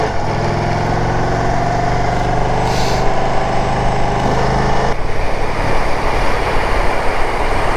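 A motorcycle rides a snowy winter road in Ohio, its engine holding a steady, loud drone with rushing wind noise that continues without a break, close to the rider.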